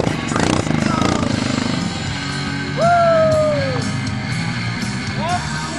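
Yamaha Grizzly 700 ATV engine droning steadily while crossing a lake and nearly swamping, with splashing water and excited shouts from people nearby over the running motor.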